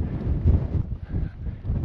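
Strong wind on a high mountain ridge in thick fog on Mallorca's GR 221 trail, a steady low roar buffeting the microphone with gusty swells, loud and close, with no talking.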